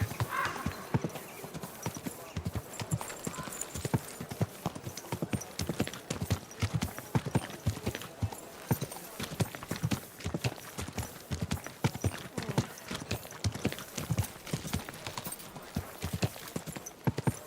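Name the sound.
horse hooves clip-clopping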